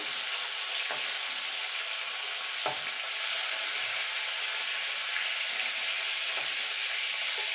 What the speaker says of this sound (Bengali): এবার চিংড়িগুলো ভেজে নেব